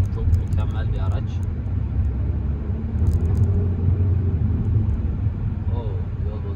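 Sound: Fiat Egea Cross automatic car driving over a rough road

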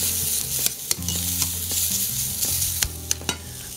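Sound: stirring zucchini sizzling in a frying pan

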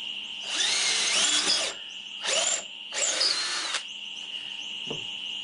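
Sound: power drill drilling bolt holes in wooden hive

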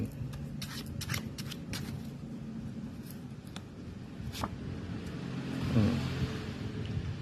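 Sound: tarot cards being shuffled and drawn

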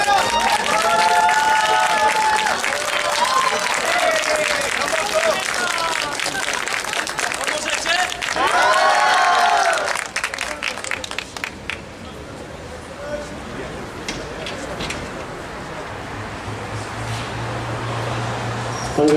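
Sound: audience applause at a squash match

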